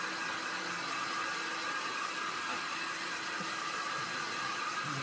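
A 2,000 watt heat gun blows a steady, even rush of air noise throughout, moderately loud and unbroken, with no talking.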